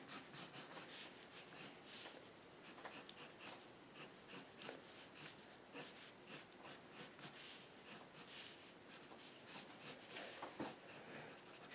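A black pencil scratches across paper in close, quiet strokes while drawing pigtails and bangs, a soft rhythmic rasp of short repeated marks.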